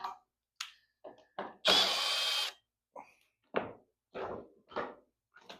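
A screw comes out of a wooden shipping crate lid holding equipment, with one short whirring burst from a driver in the middle and scattered close knocks and clunks before and after.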